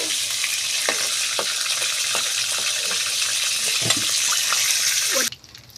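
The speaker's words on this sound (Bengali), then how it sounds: "আমাদের চিকেন ভাজা হয়ে গিয়েছে" Chicken fries in a pan with a loud, steady sizzle and occasional clinks and scrapes of stirring, cutting off abruptly near the end.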